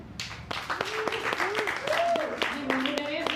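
A small audience gives a brief smattering of applause at a storytelling show, with separate claps heard close by while a voice speaks over them.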